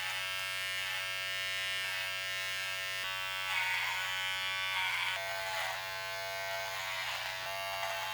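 An electric beard trimmer runs continuously with a bright, steady buzz that shifts slightly in tone as it passes over facial hair.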